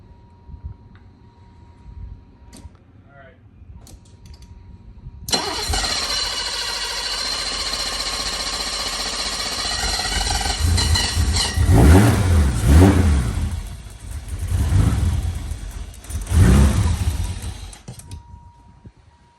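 A BMW E28 engine cranks and catches after a fresh fuel filter swap, then idles roughly and revs in several loud, close surges before settling, with no talk over it.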